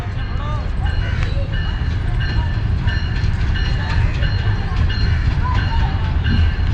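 The Karakoram Express train rumbles loudly and steadily as it rolls into Toba Tek Singh railway station, with squealing metallic brakes and clanking cars, heavy low-end noise throughout.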